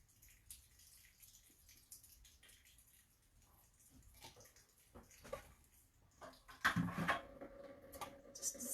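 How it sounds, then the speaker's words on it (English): Water pours off a sheet of paper into a bucket during a painting session, starting as faint drips and trickles and building to a louder splashing pour near the end, close by with no talking. "It helps when you have your bucket underneath the water that's being poured off of the paper."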